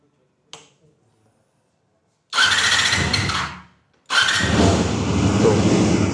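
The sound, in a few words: four-cylinder 250cc motorcycle engine starting and running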